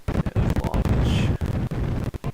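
A rocket launch in Kerbal Space Program, a loud continuous roaring rumble with crackling bursts that fills the whole moment, up close and alone.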